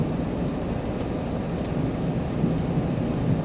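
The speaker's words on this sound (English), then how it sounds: "So it thundered and the hail started coming down." Thunder rolls through a hailstorm over a burnt forest, a deep continuous rumble blended with the steady hiss of falling hail and rain, with no talk.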